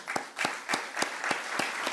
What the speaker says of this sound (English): please stand up and let me give you a round of applause